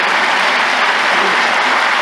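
An audience gives a loud, sustained round of applause, with dense clapping that holds steady and close from start to finish.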